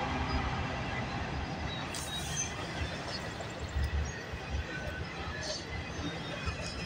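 A CN/CP freight train with a DPU locomotive rolls past at Bronte as a steady, broad rumble of wheels and cars, loud and continuous throughout, with faint squeals near the top.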